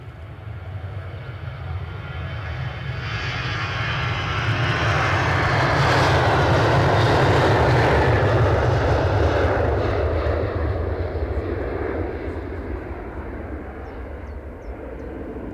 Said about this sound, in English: So this is a Ryanair to Barcelona, if I've clicked the right plane.